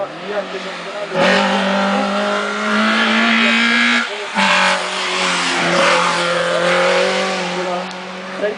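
A race car at a hillclimb-style motorsport event revs hard and accelerates away loudly, engine pitch rising through gear changes with a brief lift in the middle, while a commentator talks over the roar.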